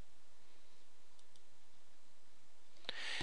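A single mouse click on a publish button near the end, a sharp close click over a faint quiet room background.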